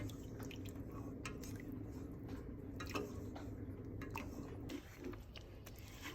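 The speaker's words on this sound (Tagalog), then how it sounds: "Ang walang katapusang halo sa Maha Blanca" A thick maja blanca mixture is stirred on and on in a pot, giving soft wet squelches, faint drips and repeated light knocks of a utensil against the metal over a low steady hum.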